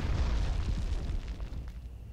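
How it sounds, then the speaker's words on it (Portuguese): A bazooka explosion in the Medal of Honor PS1 video game booms with a deep, loud rumble that rolls on and slowly fades over two seconds. "tem alguém atirando com uma bazuca aqui atrás"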